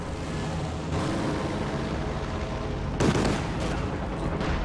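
Rapid aircraft machine-gun fire from a P-47 Thunderbolt strafing a Tiger tank in a World War II combat video game, a dense continuous rattle with a louder burst of impacts near the middle.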